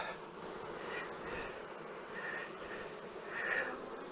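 A dense swarm of honey bees hums steadily as they are shaken from heavy honey frames into a shaker box, a continuous close buzz with slight surges and no talk.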